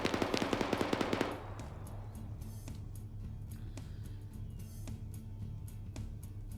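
Automatic gunfire in the online PvP shooter High Command. A loud, rapid burst of shots opens the sequence, then gives way to scattered faint distant shots and clicks over a low steady background.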